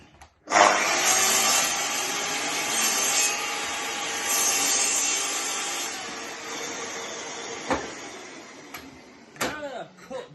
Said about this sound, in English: So here's my line, and I'm going to put it on the chop saw.